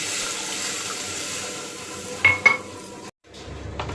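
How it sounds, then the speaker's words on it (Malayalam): Water splashes into a fish curry pan in two quick bursts, after quiet low kitchen background, and the sound drops off shortly after. "ആവശ്യത്തിനുള്ള വെള്ളവും കൂടി ചേർത്ത് കൊടുക്കാം"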